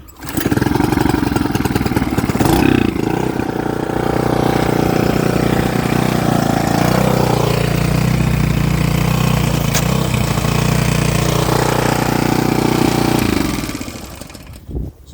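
A bargain lawn mower engine pulled into life, catching quickly and then running at a loud, steady, close-up drone for over ten seconds before cutting off and sputtering to a stop.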